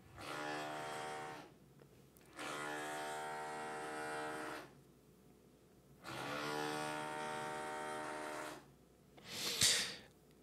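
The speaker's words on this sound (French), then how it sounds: "Il y a la perceuse qui a des trucs à dire." An electric drill whirs in three sustained bursts of about two seconds each, with short pauses between them. A brief sharp noise follows at the end. It is fairly close and steady, with no talking.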